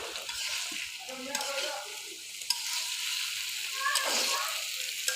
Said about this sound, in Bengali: এখন শুধু একটুক্ষণ ভেজে নেওয়ার পালা তবেই শেষ হয়ে যাবে আমার মোচার ঘন্ট